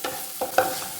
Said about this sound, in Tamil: எல்லாத்தையும் சேர்த்து நல்லா வதக்கி விடுங்க